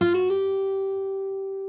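A fingerstyle guitar plays a fast run of hammer-on notes from the Animal Crossing New Horizons theme, a quick flurry of three notes settling into one clear note that rings and slowly fades, played alone.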